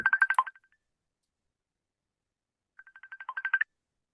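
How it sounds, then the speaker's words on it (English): A mobile phone ringing with an incoming call: a short burst of bright electronic ringtone tones, then a pause of over two seconds, then a second burst rising in loudness, close and clear with no voices. "But I got a call coming in. I forgot to turn that off."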